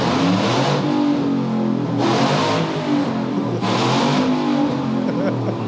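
A loud custom Italtecnica engine revs hard three times in a row, each surge roaring through the exhaust and then easing back, close and steady between bursts.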